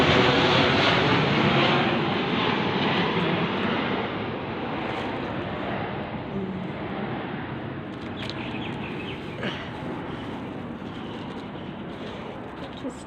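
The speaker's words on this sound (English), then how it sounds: "there's another plane going over, I think" An airplane passing overhead produces a broad, rushing roar that is loudest at first, then eases and fades gradually into a softer, distant drone.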